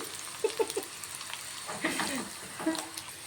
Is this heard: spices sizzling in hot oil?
yes